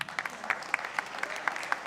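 A small congregation in a church claps in a rhythmic, evenly spaced beat, moderately loud and fairly close.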